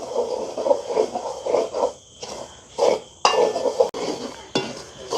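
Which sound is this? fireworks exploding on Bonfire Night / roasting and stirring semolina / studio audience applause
roasting and stirring semolina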